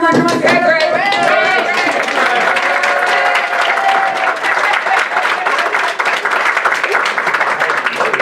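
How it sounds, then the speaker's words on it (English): A board meeting audience gives a steady round of applause that fills the room for the whole stretch, with a few voices and cheers mixed in early on. "We got one more round of applause"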